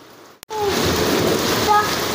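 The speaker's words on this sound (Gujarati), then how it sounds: "વરસાદ આવી ગયો ને કરા ના ઢગલા થાય છે જો." Rain mixed with hailstones comes down hard, a sudden dense loud hiss that starts after a brief quiet moment and continues steadily, with a faint voice or two underneath.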